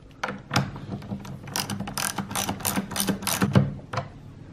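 A nut being tightened on a skateboard truck over a new bushing and old washer, heard as a quick run of close, rapid ratcheting clicks from a wrench, steady and fairly loud with no talk.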